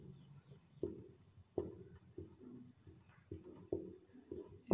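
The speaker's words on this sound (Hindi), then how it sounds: "यहाँ पर लिख देता हूँ," Chalk or marker strokes on a classroom board during a history lesson, a series of short taps and scratches at an even pace, fairly quiet and close, with no talk over them.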